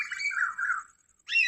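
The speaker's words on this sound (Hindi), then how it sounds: "कोयल के बच्चे बोल रहे हैं दोस्तों" Koel chicks give shrill, squawking calls outdoors after a storm: a drawn-out wavering call, a short pause, then another sharp burst, close by and clear.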